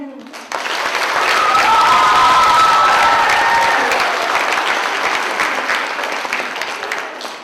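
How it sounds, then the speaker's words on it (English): An audience at a junior summer camp event breaks into loud applause that starts abruptly, holds steady and full with a few cheers, then slowly tapers off. "Let's give them one more hand of applause."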